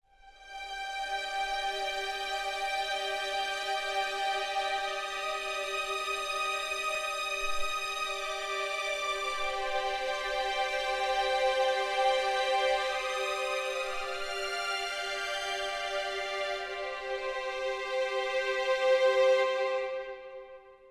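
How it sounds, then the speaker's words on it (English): Sustained violin section playing legato and long-note string patches from a Spitfire Hans Zimmer sample library, rich and widescreen, a smooth continuous harmonic texture at steady loudness for about twenty seconds, no voices. "So this is just a violin's legato patch, and the other one is a violin's long."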